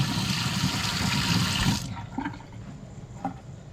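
Tap water runs hard into a kitchen sink while cans are washed, a loud steady gush that stops partway. Softer splashes and clinks of the cans follow.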